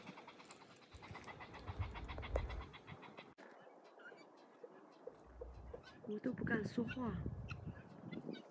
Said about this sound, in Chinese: 你听到鸟叫了没有？